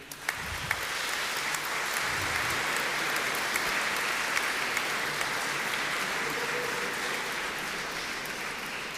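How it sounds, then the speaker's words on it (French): Congregation in a church clapping steadily for a mother who helped arrange the flowers, a dense, even wash of applause that holds at a constant level throughout with no voices over it. "Donc, on peut l'applaudir."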